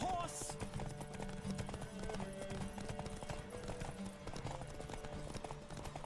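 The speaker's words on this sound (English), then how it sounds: "Don't spare the horse!" Steady clip-clop of a horse galloping in The Witcher 3, a continuous rhythmic hoofbeat under game music and ambience, with a voice talking over it.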